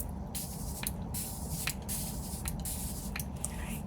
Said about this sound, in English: I'm gonna go in with some setting spray